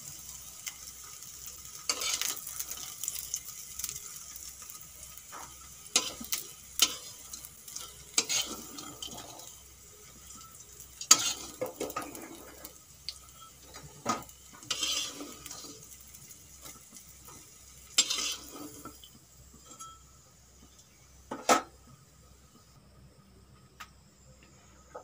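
Masoor dal bora, red lentil fritters, frying in hot oil, with a steady low sizzle under repeated sharp scraping and stirring clatter from a spatula in the pan, occasional louder clinks, and a cricket chirping faintly in the background.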